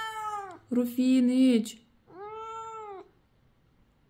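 An oriental cat, cross at missing its time on the balcony, gives two loud, drawn-out complaining meows close by indoors, with a person's brief call overlapping the first.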